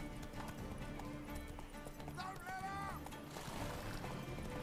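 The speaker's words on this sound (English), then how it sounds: "And Roach is just running." Hoofbeats of a galloping horse in The Witcher 3 game, a steady clip-clop rhythm running throughout under music and game sounds, with a brief whinny partway through.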